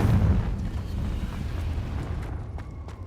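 A Confringo fire-blast spell in Hogwarts Legacy bursts with a heavy, booming low rumble that decays into a crackling, hissing tail, followed by a few faint impacts.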